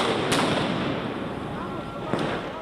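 Fireworks set off by protesters during a street protest in Tbilisi, with two sharp cracking bangs a couple of seconds apart over a loud, dense crowd roar, and voices mixed into the noise.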